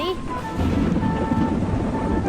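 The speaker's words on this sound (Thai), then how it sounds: "เรามาดูกันว่า ผลไม้อะไรเันจะโดนฟ้าผ่ากันบ้างครับท่านผู้ชม" Lightning thunder in the Roblox game Grow a Garden: a steady, loud rumbling storm wash with rain-like hiss throughout, alongside faint tonal game sounds.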